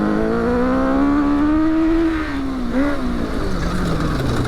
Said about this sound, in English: But man, it sounds cool.